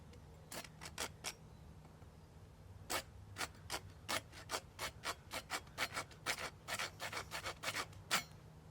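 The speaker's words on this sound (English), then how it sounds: "I'm just going to go ahead and do it with a regular old hacksaw" A small hand hacksaw cuts through PVC pipe in short rasping strokes, a few hesitant ones first, then a quicker steady back-and-forth rhythm, close and fairly quiet.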